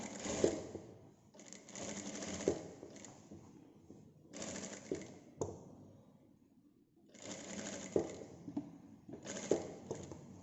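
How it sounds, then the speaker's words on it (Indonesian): A sewing machine runs a standard straight stitch on a tunic in several separate bursts, with short pauses between them. It is close and fairly steady, with small clicks and a light rattle. "Jahit dengan setikan standar di angka 3."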